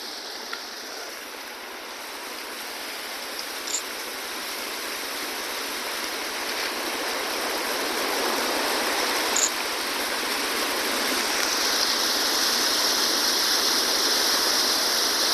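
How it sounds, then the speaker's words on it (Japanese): A waterfall at a reputed haunted spot in Fukui Prefecture, Japan, roars as a steady, dense rush of falling water that grows slightly louder over time, heard alone without voices. "これが、自殺があった滝ですね。"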